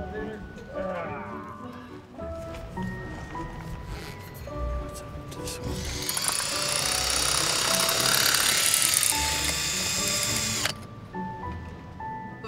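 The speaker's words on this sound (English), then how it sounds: "He pulls out his power tool out of his little handyman bag." A power tool drilling rock at a mineral dig whirs loudly for several seconds, rising over background noise and a tonal melody, then stops abruptly; voices talk before it starts.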